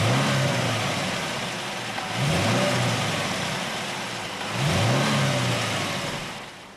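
A Chevrolet Camaro 2SS with a big 426-horsepower V8 revs three times, each deep roar swelling and fading back to a rumbling idle, loud and close with no voices.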